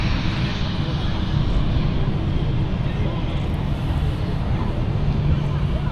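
A TUI Dreamliner jet at Manchester Airport, a loud, steady engine roar filling the whole stretch with no change, heard from nearby.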